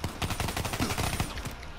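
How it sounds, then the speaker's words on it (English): Rapid pistol gunfire from the video game Call of Duty Black Ops 3, played in gun game mode, comes as a fast burst of about a dozen sharp shots in quick succession at close range. "rapid firing pistols."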